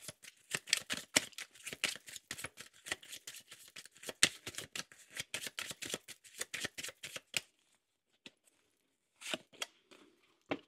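A deck of oracle cards being shuffled by hand, with rapid papery riffles and flicks that run steadily for about seven seconds, stop briefly, then come back as a short final burst.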